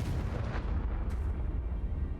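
The Confringo blasting spell going off in the Hogwarts Legacy video game, a heavy low rumbling boom with a couple of sharper cracks, rolling on for about two seconds.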